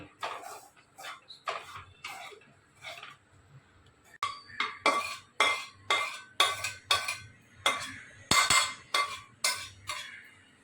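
A metal spoon stirs semolina and coconut roasting in a kadhai for laddu, scraping the pan in a steady series of clinking, scratching strokes, close and fairly loud with no talk.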